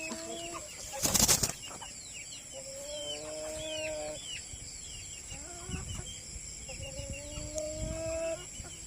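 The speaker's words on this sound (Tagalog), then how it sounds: "Meron na kaming manok na RIR" Rhode Island Red chickens in a backyard flock cluck in short repeated phrases at moderate distance, with a loud burst of wing flapping near the start and quieter calls continuing afterward.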